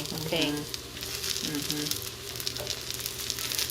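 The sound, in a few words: vegan meatballs searing in oil in a takoyaki cast iron pan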